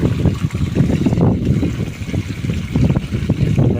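Water rushes and splashes out of an old, rotted central water heater being replaced, a loud churning gush with no speech over it.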